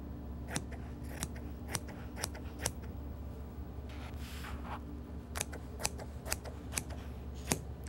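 Scissors cut fabric for a denim country apron liner, with crisp snips in irregular bursts of two or three and a longer slicing pass in the middle, close and alone against a quiet room.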